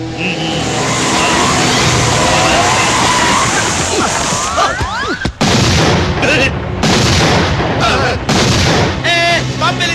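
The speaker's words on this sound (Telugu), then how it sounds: "బాంబు పేలింది" Bomb blast in a Telugu comedy film scene, a loud continuous roar with engine-like whines building to a sharp booming burst midway, followed by rumbling debris noise and crackles.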